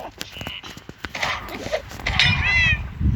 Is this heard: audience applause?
no